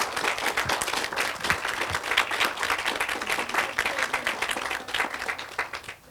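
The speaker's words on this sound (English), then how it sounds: "So round of applause for that" Guests at a wedding reception give a warm round of applause, dense and sustained clapping from a crowded room with some scattered cheering, fairly close and lively throughout.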